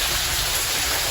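Food sizzles in a pan with a continuous, fairly loud hiss and crackle, steady throughout the short moment, with no talking.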